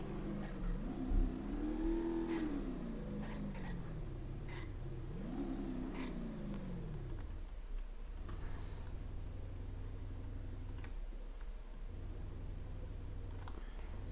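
Car engine in BeamNG Drive revving, rising and falling in two swelling sweeps before settling into a low idle rumble broken by brief dips, moderately close.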